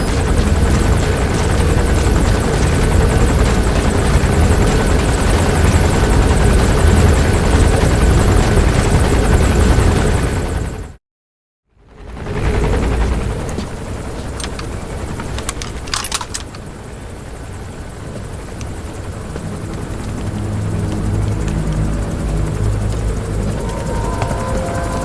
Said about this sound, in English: Skullface's chopper is there.